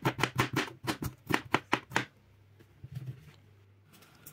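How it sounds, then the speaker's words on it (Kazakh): Knife chopping potato, tomato and garlic on a board for pea soup, about a dozen quick, close, sharp chops in a steady rhythm for two seconds, then quieter scattered taps over low background hum. "картоп, қызанақ және сарымсақты тураймыз."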